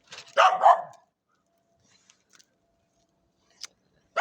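Puppies squabbling, with a short burst of high yapping barks right at the start, then near silence broken by a few faint scuffles and a sharp yelp near the end.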